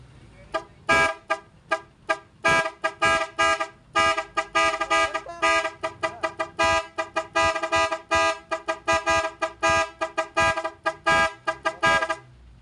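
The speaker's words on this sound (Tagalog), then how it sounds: "interrupter uh, relay para sa horn" An eight-tone car horn driven by an interrupter relay plays pattern eight, a loud, rapid sequence of staccato honks in a fast stuttering rhythm that runs almost without pause.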